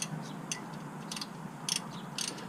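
A ratchet wrench tightening rear brake bolts on a BMW F30 Sport Line, with several short bursts of quick metallic clicking separated by brief pauses, close up, against a steady background hum.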